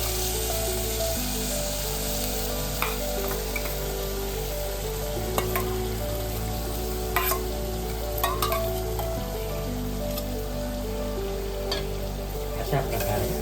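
Rice and other khichdi ingredients frying and being stirred in hot oil, a steady close sizzle throughout with occasional scrapes and clinks of the spoon, no talking.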